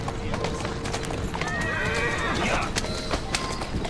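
Within the Assassin's Creed Syndicate video game, a horse gives a rising, wavering whinny at mid-distance amid clip-clopping hooves and busy street noise, with voices talking nearby.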